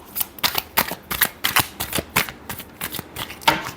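Tarot cards shuffled by hand in a quick, even rhythm of crisp riffling bursts, about a dozen close strokes, with no talking.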